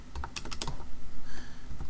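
Quick typing on a computer keyboard, a brisk cluster of close, crisp key clicks at first, then softer taps over a steady room hum.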